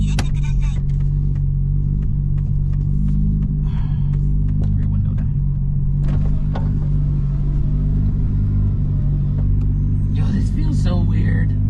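A Nissan R33 GTR rolls along a road, its engine a steady low rumble under continuous road noise, with people talking inside the car throughout.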